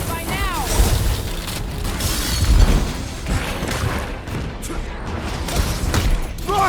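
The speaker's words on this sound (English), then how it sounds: "Rockets! Fireworks!" Rockets and fireworks go off in the Guardians of the Galaxy video game as dense booms, crackles and rumbling blasts over several seconds, with game characters talking over the noise.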